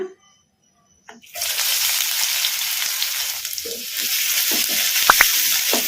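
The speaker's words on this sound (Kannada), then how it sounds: "ಈಗ ಇವನ್ನ ಎಣ್ಣೆಗೆ ಹಾಕಿ ಫ್ರೈ ಮಾಡ್ಕೊಂಬಿಡೋಣ" Finely chopped medium onions drop into hot oil after a quiet moment, and a loud steady sizzle builds and carries on at close range, with light stirring scrapes through it.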